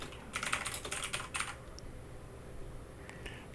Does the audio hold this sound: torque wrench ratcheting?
no